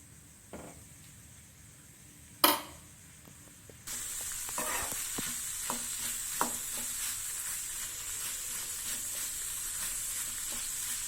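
Spicy peas masala sundal cooks in a pan. After a few quiet seconds and one sharp knock, a steady close sizzle starts with occasional small pops and crackles.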